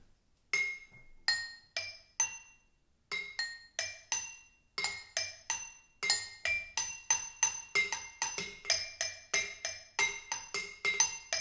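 Drinking glasses struck as a musical instrument ring out in a quick melodic run of bright, clear clinks, each note sustaining and decaying in a steady rhythm, loud and alone.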